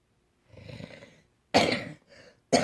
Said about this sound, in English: I am so incredibly sorry about all the coughing.